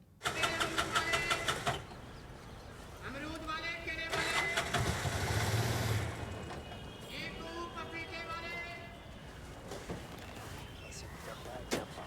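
A car engine cranks and catches, then settles into a steady idle, heard fairly faintly amid other background noise and some talk.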